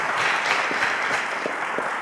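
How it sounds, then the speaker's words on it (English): Steady crowd applause from a studio audience at a televised quiz show, sustained and fairly loud with dense, even clapping throughout and no talk. "let's give him a round of applause"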